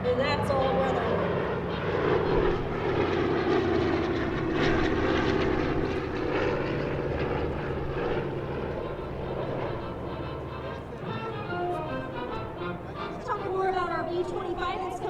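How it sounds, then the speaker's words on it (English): A C-47 Skytrain propeller aircraft passes at an air show, its engine drone loud and steady throughout under a crowd and loudspeaker ambience. "from your left, we've got the C-47 Skytrain"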